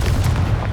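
Confringo blasting spell from Hogwarts Legacy gameplay, a short, heavy, low booming explosion that fills the whole moment, loud and close with no voice over it.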